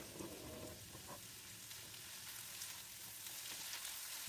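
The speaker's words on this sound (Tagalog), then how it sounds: "Pag malambot na ang onion ay ilagay ang spring onion at igisa ng 1" Chopped onion and spring onion sauté in a hot pan with a steady, close sizzle that holds evenly the whole time, without any talking.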